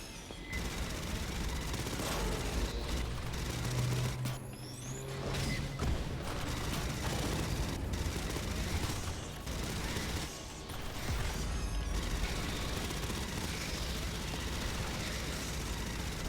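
Rapid, sustained smart gun fire from Aliens: Fireteam Elite, a dense continuous barrage of automatic shots with mechanical clatter, loud and close throughout with almost no gaps.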